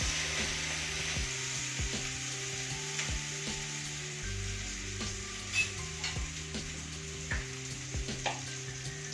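Garlic butter naan sizzles steadily in a pan on the stovetop, a constant close frying hiss broken by several sharp clicks and taps from turning the bread, with no talking.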